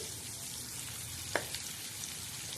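Bitter gourd stirred in a hot tempering of oil and spices, giving a steady close sizzle and frying hiss with a couple of brief spoon scrapes against the pan, no talking.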